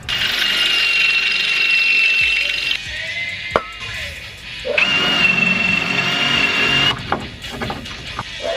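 A power drill whines in loud, close bursts while working on the upper ball joint of a GMC truck, two sustained runs separated by clanks and handling noise.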